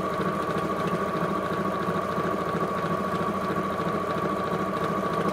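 A sewing machine stitches through fabric at a fast, even, continuous whir with a steady mechanical hum, close and unbroken throughout.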